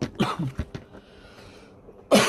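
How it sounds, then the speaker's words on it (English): A person with bronchitis coughs several times in quick, rough bursts, then pauses and gives one more loud cough close to the microphone, with no speech. "I'm sorry for the coughing. I have bronchitis."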